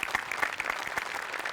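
A studio audience at a Marathi comedy show claps for the art department's farm set, a dense, steady burst of applause heard at moderate volume with no voices over it.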